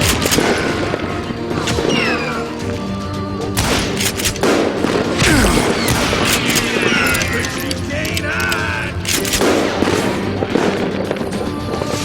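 Repeated gunshots crack and boom in irregular bursts in the Western shooter Call of Juarez Gunslinger, loud and close, mixed with shouting voices and clattering impacts throughout.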